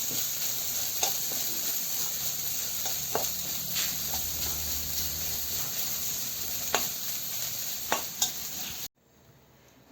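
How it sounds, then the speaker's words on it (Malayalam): A spoon scrapes and clacks against a pan in irregular strokes as grated coconut roasts to brown over a soft, steady sizzle, then the sound cuts off abruptly near the end. "നല്ലപോലെ ഒന്ന് മൂത്ത് ബ്രൗൺ ആവണം ബ്രൗൺ ആവുന്നിടം വരെ നമുക്ക് ഇളക്കാം"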